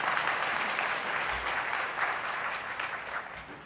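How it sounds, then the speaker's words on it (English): Audience applause for an award at the NeurIPS 2019 conference: a steady wash of many hands clapping at moderate volume, sustained evenly through the whole stretch. "I would like us to give a round of applause for this excellent work."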